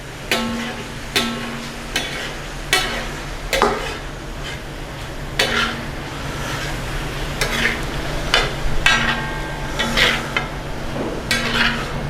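Tomatoes being stirred into liver frying on a tawa, with repeated sharp scrapes and clacks of a spatula on the metal plate over a continuous sizzle, close and fairly loud.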